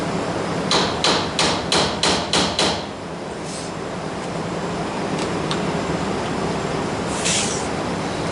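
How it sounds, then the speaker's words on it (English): Body hammer tapping the fender of a 1955 Mercury back into place: seven quick, evenly spaced sharp metallic taps close by, then a few lighter scattered taps over a steady background hum. "And we'll just use a body hammer."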